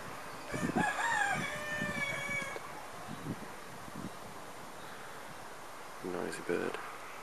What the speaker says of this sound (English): There are a lot of, like, chickens running around in the gaps.